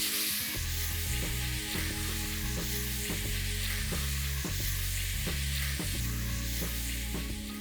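Chopped onions sizzle steadily in hot oil in a frying pan as they soften for a Punjabi mutton curry, a continuous loud crackling hiss with occasional stirring scrapes, no talking.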